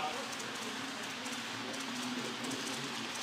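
A model train rolls steadily along its track at the ECHOES Train Club in Palmetto Bay, Florida, with a continuous rumbling clatter that stays even throughout, and faint voices sit in the background.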